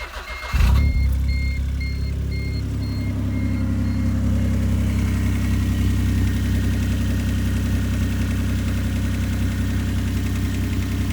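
A Smart Car 451 engine fitted with a performance header and exhaust starts with a brief burst, then idles with a steady, loud, deep drone. The rumble stays close and even, with no talk over it.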